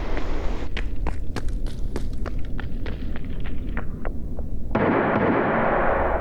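Running footsteps in Escape from Tarkov, a quick regular series of about a dozen crisp footfalls close by, followed by a sudden wash of broadband noise.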